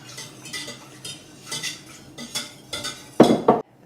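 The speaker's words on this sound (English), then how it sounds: "Now that it's sort of a smooth paste, you can add the rest of the milk and use the whisk." Metal whisk clattering against the sides of a bowl as milk is beaten into a smooth paste, a run of quick scraping, tapping strokes that build to a louder, busier burst near the end, close by with no talk.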